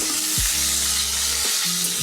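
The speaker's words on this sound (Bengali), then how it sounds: "আলুটা ভাজা হয়েছে, আর ফোড়নেরও একটা সুন্দর গন্ধ বেরিয়েছে" Potatoes with whole tempering spices fry loudly in hot oil, a dense steady sizzle close up with a low hum beneath, no talking.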